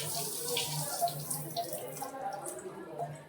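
Liquid is poured off boiled chickpeas, a soft continuous splashing trickle for a few seconds, close and fairly quiet.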